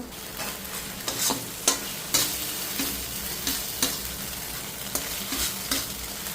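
Spice masala with cumin powder, Kashmiri chili powder and chopped tomato is fried in a pan for a fish curry, with a continuous sizzle and repeated sharp spoon scrapes and taps against the pan.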